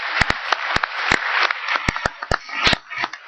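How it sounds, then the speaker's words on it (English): A conference audience applauds at the close of a session, a dense wash of many hands clapping with sharper individual claps popping out. It runs steadily through the whole stretch, with no talking. "Big applause"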